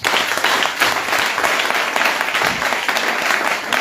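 A church congregation breaks into loud, sustained applause, dense clapping from many hands filling the room at an even level from start to finish.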